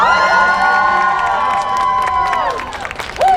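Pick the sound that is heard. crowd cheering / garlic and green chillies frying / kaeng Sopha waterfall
crowd cheering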